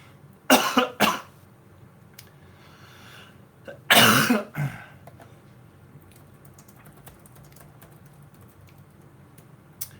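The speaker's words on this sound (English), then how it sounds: "I'm having a coughing fit before we even start." Two bursts of loud, harsh coughing, a couple of hacks around the start and a heavier fit a few seconds later, then quiet with faint clicking.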